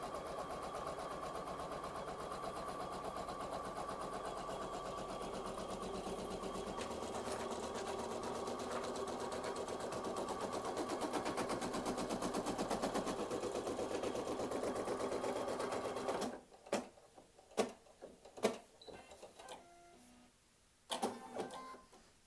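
An embroidery sewing machine stitches an in-the-hoop towel topper through fleece, a fast, steady mechanical hum that runs continuously, then stops and gives way to a few scattered clicks and clunks.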